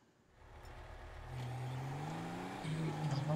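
A giant 4x4 car in GTA Online rises from quiet into a steady engine drone, the pitch climbing as it revs and accelerates, with someone speaking over it.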